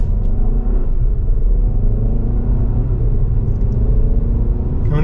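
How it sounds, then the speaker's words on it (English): A 2024 Hyundai Santa Fe SEL AWD engine rumbles loudly from inside the cabin, a steady low drone with slowly rising pitch as the SUV pulls away from a stop. "Now we're going to take off."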